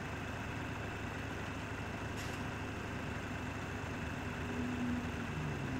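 A car engine in Farming Simulator 17 drones on steadily and loudly without a break, its low rumble holding constant with a faint higher whine layered on top.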